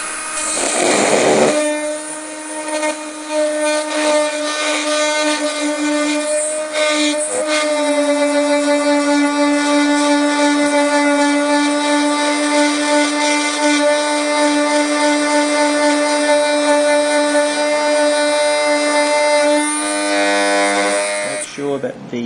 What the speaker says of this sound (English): drill a hole according to the instructions